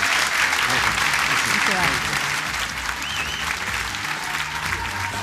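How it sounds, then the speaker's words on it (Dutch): Dense audience clapping for a guest at a Dutch debate event, loud and continuous throughout, with some voices faintly mixed in beneath the applause. "het laatste applaus is altijd voor onze gast"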